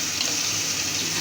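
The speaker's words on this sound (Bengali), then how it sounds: "একটু পানি দিই।" Water pours steadily into a cooking pot of curry, a smooth, continuous splashing stream heard up close with no talk.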